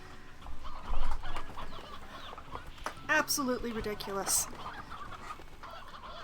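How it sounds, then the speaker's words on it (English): Roosters in a chicken pen in the video game Slime Rancher 2 let out a few squawking, crowing calls in quick succession while someone talks. "Okay, that should be plenty of roosters for the continued survival of my chicken pen"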